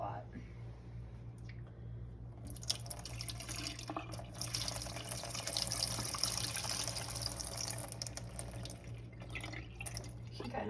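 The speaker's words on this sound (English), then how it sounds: "You put a tiny bit more water in." Water runs steadily into a bowl while a pomegranate is being prepared, a continuous close splashing and trickling that swells slightly midway and carries on alone for about eleven seconds.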